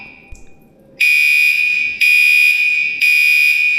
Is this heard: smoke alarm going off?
yes